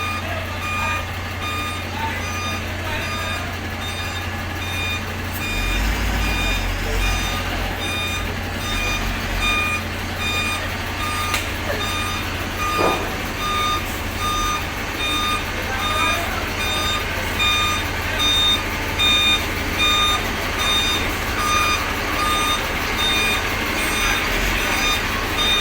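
Loud, steady reversing beeps from trucks and buses backing onto the MV Star Ferry 4 at Tabaco port, repeating continuously over heavy engine rumble and hiss, with voices talking nearby.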